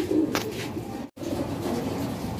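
Racing pigeons coo softly at feeding time, a few low burbling calls close by over a faint background hum, broken by one brief dropout.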